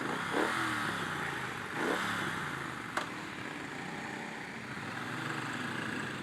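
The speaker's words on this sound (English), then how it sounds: "Everyone's revving their engines." Motorcycle engines, including a Triumph Bonneville Speedmaster, rumble and rev in short bursts, with a sharp metallic click partway through and a steady background drone throughout.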